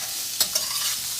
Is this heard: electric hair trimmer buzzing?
no